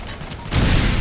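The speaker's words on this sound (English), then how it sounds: "So there's an anti-tank rocket going against the friendly APCs that are coming up" Anti-tank rocket fired at friendly APCs in the video game Operation Flashpoint 2, a sudden loud blast that swells to a sustained roar for the second half, after quieter rumbling battle noise.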